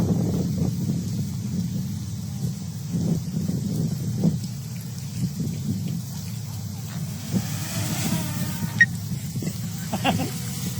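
Wind buffeting a Mavic Air 2 drone's microphone in flight, a steady low rumbling roar that persists throughout with occasional gusty bumps, and faint voices underneath.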